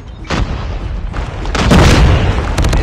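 A frag grenade detonates in a Call of Duty Mobile multiplayer match, giving a loud, close boom followed by a swelling rumble and some sharper pops near the end.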